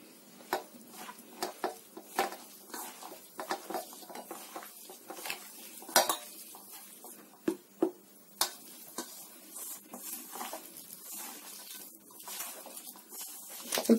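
Vegetables being mixed with maida and cornflour in a bowl for vegetable Manchurian, with irregular clinks and scrapes of a utensil against the bowl and soft squelching stirs, fairly close and without talk.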